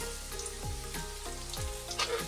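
Onion, green chili and capsicum fry in oil in a pan with a close, crackling sizzle, with a few soft scraping stirs spaced through it.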